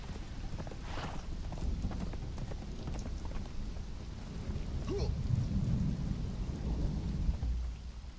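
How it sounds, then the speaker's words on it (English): Thunderstorm in the video game Conan Exiles: steady rain hiss with low rolling thunder rumbles building through the middle and end, no talking. "Thunder effect is fantastic."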